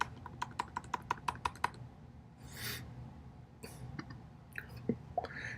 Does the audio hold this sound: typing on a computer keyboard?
yes